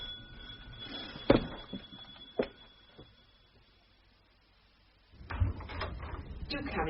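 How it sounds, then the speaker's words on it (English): A door-opening sound effect in a BBC radio comedy, a sharp knock or latch clunk followed by a few softer thuds, then a rustling shuffle after a pause of near silence. "It sounds as if there's someone at the door, Sarah, dear"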